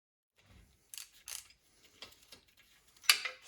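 A wrench works loose a tight suspension part from a 1974 Plymouth Duster held in a vise, giving sparse, quiet metallic clicks and clinks spread across a few seconds in an otherwise hushed shop.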